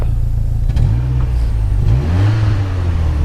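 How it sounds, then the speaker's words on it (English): A 1986 Saab 900 Turbo coupe with a five-speed gearbox idles in cold weather, then its engine revs up in two rising, falling blips, loud and close. "Go ahead and rev it up a little bit."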